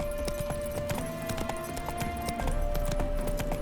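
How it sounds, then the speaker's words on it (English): Roach the horse in The Witcher 3, spooked, with steady rhythmic hoof clip-clops on the ground under a constant background tone and no talk. "Spooking my horse."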